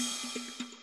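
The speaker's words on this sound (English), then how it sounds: "They are both analog cymbals, but slightly different timbre." A shimmering cymbal wash rings bright and loud over a quick pulsing beat and a low bass note.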